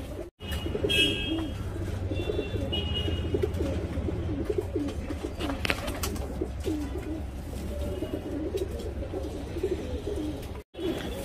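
A young Dhoom Regdar racing pigeon cooing up close in soft, repeated throaty rolls, with faint chirps from other birds around it.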